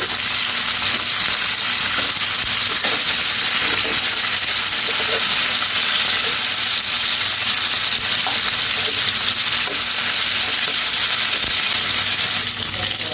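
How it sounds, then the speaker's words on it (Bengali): Hilsa fish pieces are flipped while frying in oil, giving a loud, constant close sizzle with faint stirring and scraping under it throughout. "এখন মাছগুলোকে একটু উল্টে পাল্টে নিই।"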